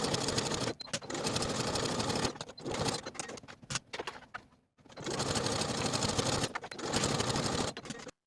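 A sewing machine stitches the slanted edges of a fleece sweater pocket: a steady, loud mechanical whir in long runs, broken by short pauses and brief stops, close by and with no talking.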